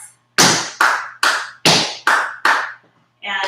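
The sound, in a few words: tap dance step and two hand claps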